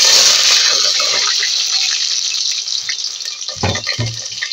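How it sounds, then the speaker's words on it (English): Plantain slices go into hot oil and fry with a loud, even hiss that slowly eases, followed near the end by a few clattering knocks from a utensil. "Yeah, so the oil is hot and we're going to be putting plantain inside."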